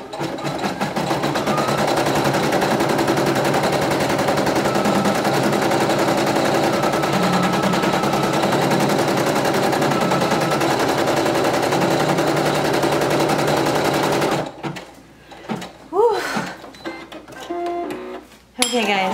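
A Brother PE800 embroidery machine stitches a small kid's shirt with a loud, steady mechanical whir and rapid needle rhythm, then stops abruptly, leaving someone talking close by.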